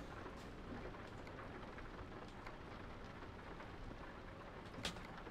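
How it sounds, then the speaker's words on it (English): Steady wet rain hisses on a truck in motion, a constant dense wash of noise with no clear breaks, faint and even throughout. "I forget it's raining"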